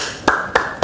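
Three sharp, close hand claps ring out at even intervals, each a crisp bright smack followed by a short ringing tail, in an otherwise quiet room.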